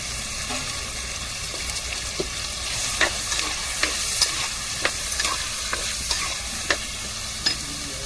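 Ground paste of coconut, ginger and garlic frying in a pan while being stirred, a dense continuous sizzle broken by repeated scraping spoon strokes, close and steady without any voice.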